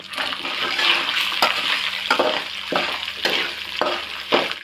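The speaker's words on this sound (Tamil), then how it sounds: "இந்த பருப்பில் மிளகாயை போட்டு வறுத்துருவோம்." Dried red chillies fry with lentils in oil for mint thuvayal, a steady crackling sizzle with a handful of sharp stirring scrapes recurring roughly every half second to second, close by.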